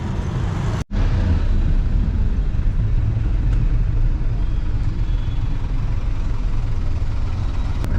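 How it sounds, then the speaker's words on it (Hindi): Traffic jam in Srinagar after heavy rain: a steady low rumble of idling car and truck engines close by, with one brief dropout near the start and no talking. "अभी मैं ट्रैफिक जाम में फंस चुका हूँ।"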